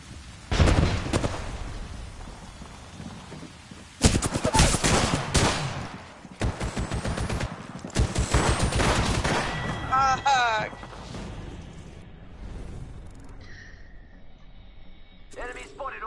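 Gunfire in the online shooter Apex Legends: several loud bursts of rapid shots in clusters over the first half, then quieter in-game effects and chimes, with a player talking over the action.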